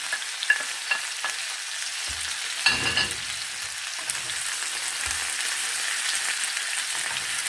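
Vegetables fry and are stirred in a pan for a fried potato dish with canned stewed meat, peppers and onion. A steady hiss of sizzling runs throughout, broken by occasional scrapes and clatters of stirring.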